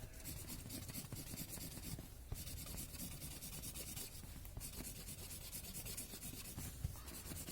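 A hand rubs excess charcoal off drawing paper, producing a soft, continuous scratchy rubbing close by, in steady back-and-forth strokes with a couple of brief pauses.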